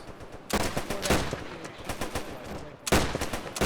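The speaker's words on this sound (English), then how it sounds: "What range are you firing at, Cromwell?" Bursts of gunfire in Arma during a Guards Armoured Division desert training exercise in Tunisia, two loud rapid volleys of shots separated by a quieter stretch of scattered firing, close and sharp.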